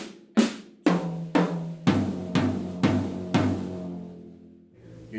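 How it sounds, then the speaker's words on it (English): Drum kit playing an eighth-note fill: eight sharp hits in an even rhythm, the first four on higher drums and the last four deeper and ringing longer, close and loud with no talking, decaying into silence. "So during a fill with eighth notes, it's going to sound like this."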